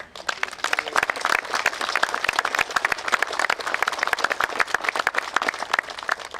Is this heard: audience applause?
yes